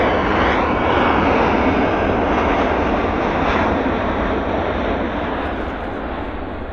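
Airliner accelerating down the runway on its takeoff roll at Vancouver airport, a loud, steady broadband jet roar that swells and then slowly eases, heard alone without talk.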